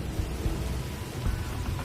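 Thunder rumbles low and steady over the Australian desert, a brief deep roll of storm noise with a hiss like rain across it.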